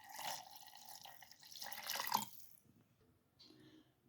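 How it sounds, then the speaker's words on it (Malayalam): Water is poured from a cup into a mixer jar of ground carrot, giving two short splashing pours, then a quieter trickle after a pause. "ക്യാരറ്റ് അരച്ചെടുത്ത് ഇനി അതിൽ 1 കപ്പ് വെള്ളം ചേർത്ത് കൊടുക്കുക"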